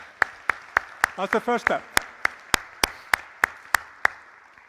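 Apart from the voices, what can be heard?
audience applause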